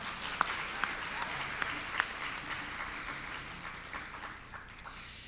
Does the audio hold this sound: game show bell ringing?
no